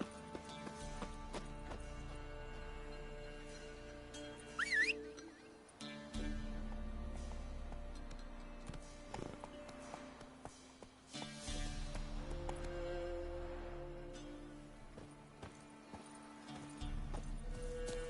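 A horse trotting in The Witcher 3 on the way through Novigrad, its hoofbeats steady under a layered game soundtrack of sustained tones, with a brief whinny-like cry early on.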